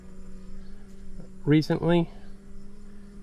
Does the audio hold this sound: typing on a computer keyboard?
no